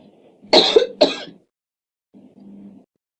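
Two sharp coughs close together, then a short pause and a low, soft throat clearing.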